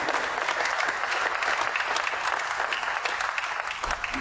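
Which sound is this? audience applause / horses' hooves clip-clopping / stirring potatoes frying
audience applause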